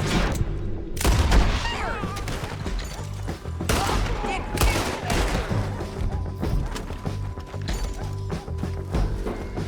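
Gunfire crackles through a Western shootout in the video game Red Dead Redemption 2, a dense run of shots and impacts at moderate loudness with shouted voices mixed in.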